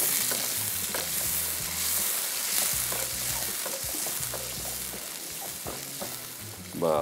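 A spoon stirs malai kofta curry with added water in a hot pan, giving a soft steady sizzle with repeated scraping strokes, close up and with no voices.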